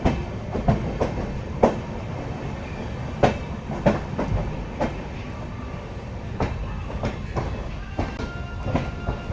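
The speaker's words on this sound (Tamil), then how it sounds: "இந்த இடத்துல வந்து ட்ராக் சவுண்ட் வந்து சூப்பராக இருக்குங்க" Express train on the Tirunelveli to Mangaluru run, its wheels clacking over rail joints in a steady rhythm of sharp knocks above a continuous loud rumble, heard close from on board.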